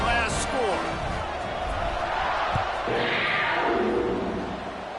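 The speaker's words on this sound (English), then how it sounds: "this crowd is buzzing after that last score." A Kentucky football stadium crowd buzzes after a touchdown, a broad, steady murmur of many voices with a few thumps, and a voice talking over it.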